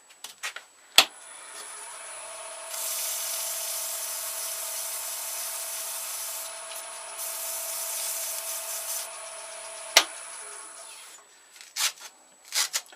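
A natural-edged holly wood bowl spins on a lathe while 400 grit abrasive is held against it, producing a steady, close rubbing hiss that swells partway through, with a few sharp knocks before and after.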